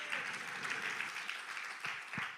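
Church congregation applauding during a sermon, a steady broad wash of many hands clapping throughout, with a couple of louder claps standing out near the end.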